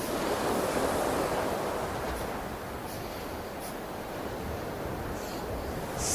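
Sea waves wash onto a sandy beach backed by dunes in a steady, loud roar of surf with a gentle swell and fall, and no voices over it.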